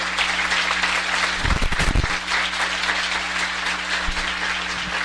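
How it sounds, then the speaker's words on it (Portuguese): A church congregation applauds steadily in a full, sustained wash of clapping that holds evenly throughout, with a short burst of louder sound partway through. "Vamos aplaudir ao Senhor mais uma vez"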